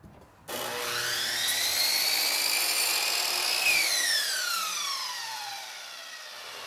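A miter saw cuts bullnose molding at a 22.5-degree left miter angle; the motor's loud whine climbs, holds steady through the cut, then slides downward as the blade spins down, with no voices.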